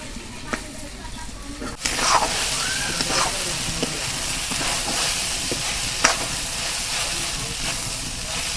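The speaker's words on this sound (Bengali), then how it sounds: "দেখো ঢেঁড়স ভাইজে ভেজে কালা কুচকুচা বানাইছি" Okra from a home garden stir-frying in a pan until dark and dry, with a steady broad sizzle, a sharp clatter at the start and scattered stirring knocks over the continuous hiss.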